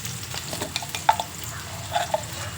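Onions frying in a pan on a home stove while being stirred, a low steady sizzle with a few sharper scrapes and clinks of the utensil against the pan, fairly faint and with no talking.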